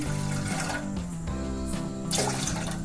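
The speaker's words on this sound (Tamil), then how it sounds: "ரெண்டு டம்ளர் தண்ணி ஊற்றி" Two tumblers of water splash and gurgle steadily into a cooking vessel, with a bright rushing burst near the end; no voices.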